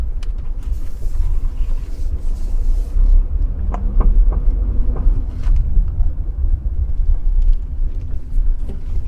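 A petrol Tata Nexon Creative Plus with manual transmission drives along, its cabin filled with a continuous low engine and road rumble, light wind noise and a few faint knocks and clicks, with no talking.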